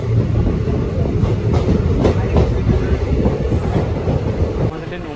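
The 13141 Teesta Torsa Express runs on rails as it pulls into Ambika Kalna station, with a loud, steady rumble of wheels and carriages and a clattering of rail joints throughout.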